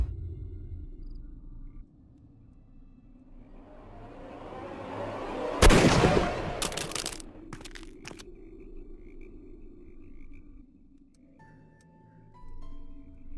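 A single sharp gunshot rings out in the Sherlock Holmes: Crimes & Punishments video game, a loud crack midway through after a low rumbling ambience, followed by a few faint clicks and settling noise.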